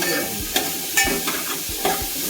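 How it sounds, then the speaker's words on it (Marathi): Radish frying in a spiced tempering for a curry, sizzling steadily in the pan with a few louder hissing bursts as the pieces are stirred, close and alone. "चांगली फोडणी मुळ्याला लागली"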